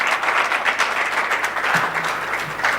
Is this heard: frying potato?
no